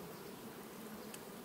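A healthy drone bee buzzes inside a beehive during an inspection, a low steady insect drone heard quietly and close without speech.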